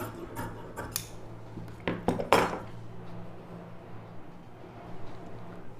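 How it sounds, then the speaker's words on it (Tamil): Scissors snip straight through blouse fabric along a marked line at a tailoring table, a few crisp close cuts clustered early, then quieter handling noise. "இப்போ வந்து இந்த அப்படியே ஸ்ட்ரைட்டாக கட் பண்ணிக்கலாம்"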